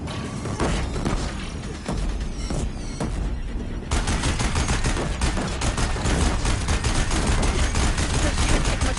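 Sustained gunfire at a bridge in Horizon Zero Dawn Remastered, a dense barrage of rapid shots mixed with mechanical clanks and creaks, loud and continuous throughout.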